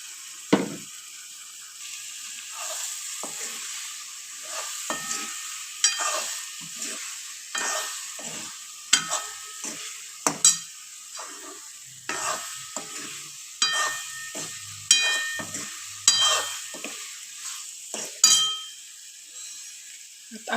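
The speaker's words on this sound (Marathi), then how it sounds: "आता आपण त्यात अंडे टाकून घेऊ." Sizzling and frying in a pan as eggs are added to masala for a keema egg dish, with repeated stirring scrapes and clinks of a utensil against the pan, close and moderately loud, with no talking.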